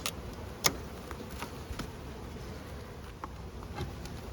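Honey bees buzzing in a steady hum at a hive, with a few soft knocks and clicks scattered throughout, close by and without speech.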